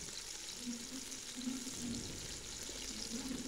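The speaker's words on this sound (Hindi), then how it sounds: "प्याज को यहाँ पे हमने हल्का सा सुनहरी कलर आने तक फ्राई करना है।" Chopped onions frying in ghee in a pot for kabuli chana pulao, a soft steady sizzle with faint stirring, fairly quiet, heard close throughout with a low voice talking over it.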